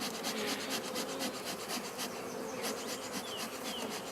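Honeybees buzz steadily and close during a spring hive inspection, a dense continuous hum with brief rustling of frames and wood, no voices.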